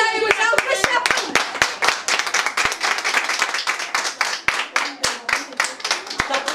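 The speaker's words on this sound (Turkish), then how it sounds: "alkış yapın" Rhythmic group clapping at a Roma wedding, a steady beat of sharp hand claps kept up throughout, with voices talking and calling over it.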